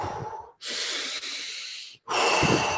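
Deep breaths drawn nose in and nose out, three long airy breaths, each lasting over a second with brief pauses between them, close and loud with no talking.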